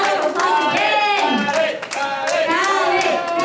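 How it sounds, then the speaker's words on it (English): A crowd claps and cheers for race winners gathered on stage at a Mobil 1 Racing endurance race event, with dense, continuous applause and voices mixed in. "Round of applause again."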